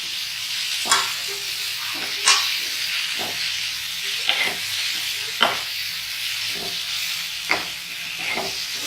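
Pointed gourd (parwal) frying in a pan, a constant hiss of hot oil broken by sharp, regular scrapes of a spatula roughly every second, close and fairly loud, with no voices.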